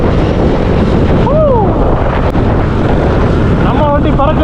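A KTM Duke 250 motorcycle ridden fast, heard as a loud, constant roar of wind buffeting the microphone with a brief voice fragment partway through.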